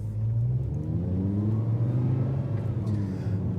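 An Audi R8 V10 with the R-tronic gearbox in auto sport mode accelerates, its engine droning loudly and steadily with rising harmonic tones as it pulls through the gears, heard from inside the car.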